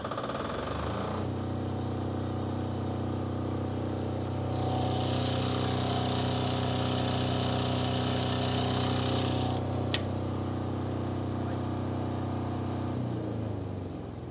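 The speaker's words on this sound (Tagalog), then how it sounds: "Ito po yung order po ninyo na 10 kVA na diesel-operated na generator." A 10 kVA diesel-operated generator starts up and runs at a steady, close, loud chugging hum, holding an even drone before cutting off near the end.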